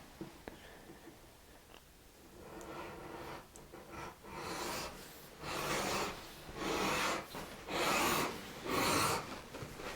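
A tool bevels the edge of a leather belt in a black and brass build. Rhythmic rasping strokes start quietly and grow louder and longer, close and dry, each a separate scraping pass.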